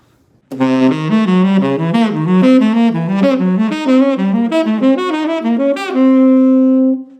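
An electric guitar runs through fast diminished arpeggios in alternating shapes, a rapid stream of clean picked notes that climbs and ends on one held note, close and loud with no talk.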